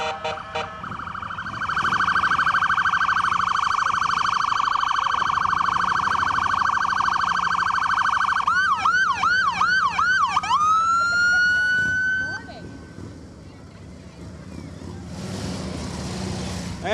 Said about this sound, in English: You hear the sirens right now going on?